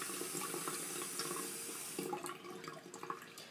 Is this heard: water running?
yes